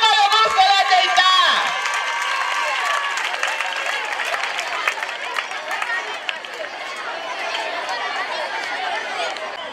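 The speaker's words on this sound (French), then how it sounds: "On applaudit encore le groupe scolaire Teïta" A crowd applauds and cheers for a school dance group from Teïta, dense clapping and voices filling the space, loudest at the start and then holding steady, with chatter mixed throughout.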